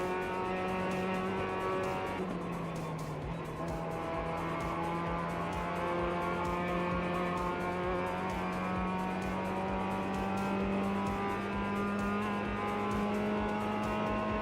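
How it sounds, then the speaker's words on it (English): A race car engine in the sim racing game iRacing drones loud and steady from inside the car, its pitch stepping down once early as the driver downshifts, then holding high in the rev range throughout. "I'm downshifting to keep that high power band"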